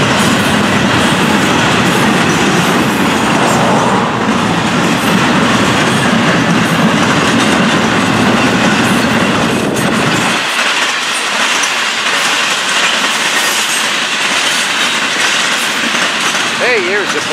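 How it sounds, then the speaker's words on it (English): A long freight train on the FEC carries intermodal double stacks, piggybacks and single stacks, rumbling past loud and close with rolling wheel clatter, then thinning to lighter rail noise, with faint squeals near the end. "Intermodal right here, including these piggybacks, double stacks, and single stacks"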